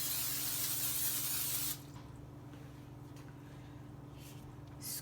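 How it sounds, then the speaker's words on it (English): A can of cooking spray hisses into a mini muffin pan in one steady burst of under two seconds, followed by quiet kitchen background. "take your mini muffin pan and spray it with some cooking spray"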